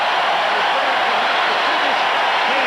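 Basketball crowd at a 1993 Denver Nuggets game giving Scott Hastings a sustained ovation as he leaves the court, a dense wash of clapping and cheering that stays level throughout.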